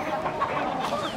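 A flock of chickens clucking and murmuring close by, with a rooster among them, a busy steady chatter with no pauses.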